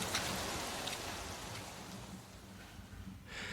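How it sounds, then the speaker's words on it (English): Rain pours steadily as a dense, even hiss of drops on surfaces, continuous and fairly close throughout the short stretch, with a brief brighter burst of spray near the end. "when all the rain is going off"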